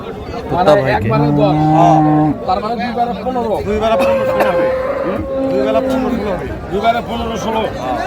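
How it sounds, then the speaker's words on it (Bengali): Several dairy cows and calves moo loudly and repeatedly, long drawn-out calls overlapping amid a noisy crowd of chattering people at close range at Raniganj cattle market, Dinajpur. "এখানে তোতা ভাই গরুটি সুন্দরভাবে দেখছেন"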